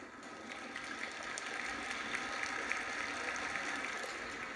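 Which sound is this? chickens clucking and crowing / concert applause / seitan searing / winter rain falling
concert applause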